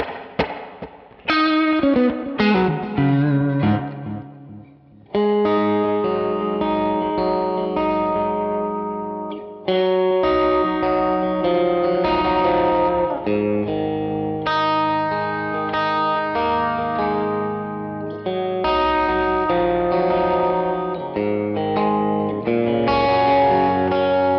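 Electric guitar chords through the Neural DSP Archetype: John Mayer X spring reverb, ringing out with a springy, splashy reverb that lingers and decays after each strum, played alone with short pauses between phrases.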